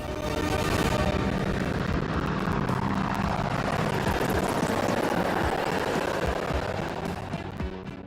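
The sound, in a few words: helicopter formation flypast: light combat helicopter, Apaches, advanced light helicopters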